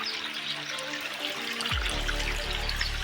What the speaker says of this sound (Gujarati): બે બાજુ સરખું પાણી આવે છે